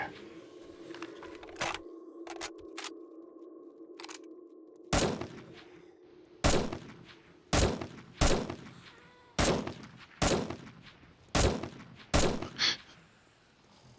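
Gunfire in the zombie survival game 7 Days to Die, Alpha 20, during a horde attack: about ten loud, sharp shots fired in quick succession, with a low hum and a few clicks in the gaps between them.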